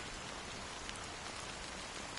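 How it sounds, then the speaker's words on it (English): Steady rain falling in the video game Honkai: Star Rail, a constant even hiss of drops with no pauses or voices. "how long has this rain been going on for?"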